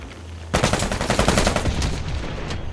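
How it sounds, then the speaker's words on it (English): Rapid shotgun and automatic gunfire crackle loudly in a first-person shooter match, a dense burst of overlapping shots starting abruptly and sustaining to the end with no talk. "Shotgun!"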